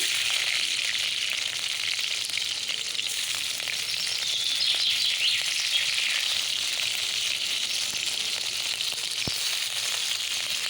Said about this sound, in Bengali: চিংড়ি পেঁয়াজ আদা রসুন একটু আমি লাল লাল করে ভাজা করে নিয়ে